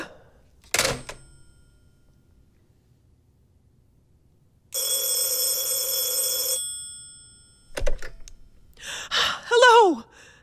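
A telephone bell rings once in a sustained, loud burst of nearly two seconds after long quiet, between a sharp click and a woman's gasping, sighing breaths in a radio drama.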